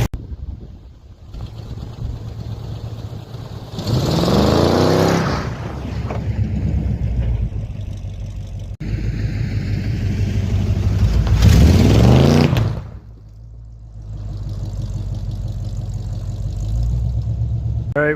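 Engine of a Dodge Caravan running after a Seafoam treatment, a low steady idle that twice swells into louder revving bursts with some wind noise, heard close with no talking.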